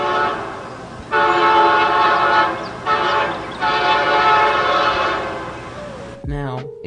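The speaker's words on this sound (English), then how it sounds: "the GP60Ms were fitted with a Nathan K3 LA air horns. Here is what they had sounded like" A Nathan K3LA air horn on a Santa Fe EMD GP60M diesel locomotive blows loud, sustained chord blasts, three in a row with short breaks between them, followed by a brief clip of speech.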